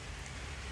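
Steady rain falling on a farm where sheep are kept, a soft continuous patter of drops that runs evenly through the moment with no voices.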